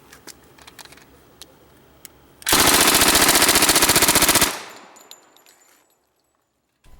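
An M1 Thompson submachine gun fires one sustained burst of about two seconds: a loud, rapid, even stream of shots after a short quiet lead-in. The echo then fades into silence.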